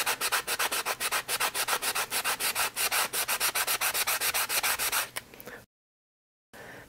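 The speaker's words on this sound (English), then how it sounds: "I recommend using the sanding block or some sanding paper to get that extra stuff off" A sanding block rubs dried paint off a wooden paint brush Christmas ornament in quick, steady back-and-forth strokes, close and scratchy, then stops abruptly.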